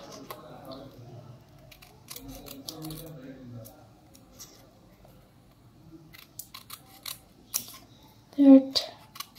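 Scissors snipping colored paper for a craft unicorn bookmark, scattered sharp little cuts and clicks, close by, with a child and an adult talking quietly throughout.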